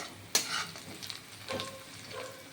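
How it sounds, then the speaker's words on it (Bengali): Soft sizzle of onion and garlic frying in a pan with a few sharp scraping stirs, no voices. "পেঁয়াজ প্রায় ভাজা হয়ে এসেছে রসুনও দেখছেন একটু লাল লাল হয়ে এসছে"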